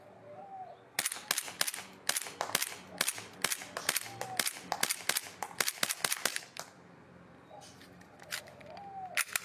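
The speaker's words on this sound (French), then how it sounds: "petit aperçu du mode full auto qui est inutile clairement sur un GBB" An airsoft SAD13 gas blowback replica fires in full-auto bursts, sharp rapid clacking shots in quick strings with short pauses between them, close and loud against quiet outdoor ambience, with no talking.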